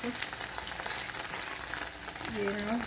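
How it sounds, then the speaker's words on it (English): Okra frying with onions in a pan, giving a dense, continuous close sizzle, with a voice briefly heard near the end. "I'm gonna add the okra to the onions after now, and cook it up a little in there"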